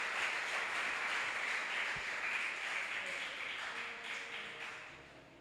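A church congregation applauds in praise after a sermon, a broad, even wash of clapping that holds steady and then slowly fades, heard at some distance in a large room.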